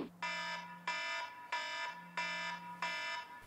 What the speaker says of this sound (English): you have to wake up to the most obnoxious alarm clock ever